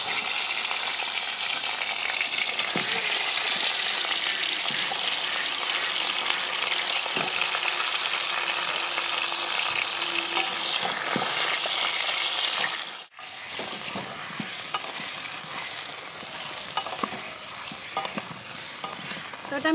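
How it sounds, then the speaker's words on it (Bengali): Marinated hog plums (amra) fry in a pan with a steady, close sizzle and occasional stirring clinks, and the frying continues after a brief pause near the end. "একটু ভেজে নিব, উপরের কালারটা যাতে চেঞ্জ হয়ে যায়"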